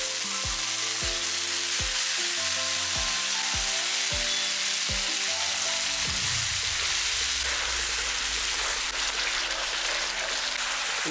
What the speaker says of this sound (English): And now I am going to add 1 cup of tomato puree